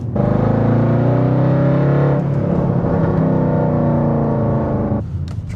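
A nearly 20-year-old Mercedes C63 AMG, facelift model, roars loudly and close with a deep, brutal engine note. It holds steady, shifts tone partway through and drops off near the end, with no talk.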